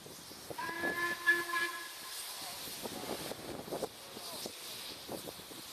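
LMS steam locomotive 5699 Galatea gives a brief, fairly distant steam whistle blast at Carnforth over soft hiss and background murmur, followed by scattered voices and crowd noise.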